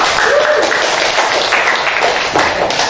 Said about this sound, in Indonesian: Mari kita tepuk tangan untuk kedua teman.